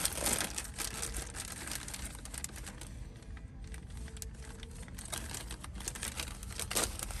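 A bag of wiring supplies such as shrink wrap handled on a vehicle dashboard, giving soft, close crinkling and rustling plastic sounds that carry on steadily throughout.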